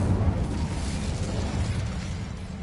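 Casting the Incendio fire spell in Hogwarts Legacy: a sustained, rumbling whoosh of flame with a booming, burst-like onset that stays dense and full for a few seconds before easing slightly.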